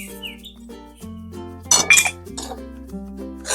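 A spoon taps against a pan as about two and a half spoonfuls of sugar go in alongside cracked cardamom for a ripe mango filling, giving a few light clinks and a short gritty rush in the middle.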